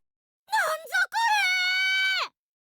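A dramatic character scream from the Steins;Gate visual novel game, a short broken cry and then a long sustained wail that cuts off sharply, loud and clear against silence.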